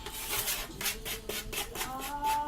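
Hands rub grapeseed oil into dry mushrooms as a wet rub, giving a soft, steady, close-up rasping and squishing with repeated strokes, no talking.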